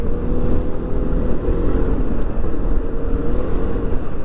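Yamaha XMAX 300 scooter engine on a test ride, a steady loud droning hum with wind rush, running continuously at an even pace with no voices.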